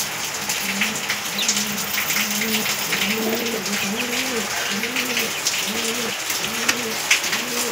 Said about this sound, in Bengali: এখানে আছে লক্কা পায়রা